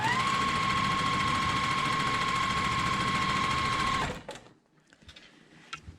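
A sewing machine runs steadily while stitching quilt seams for a block-of-the-month diamond strings quilt, a continuous close whirring hum that stops abruptly after about four seconds, leaving faint handling noises.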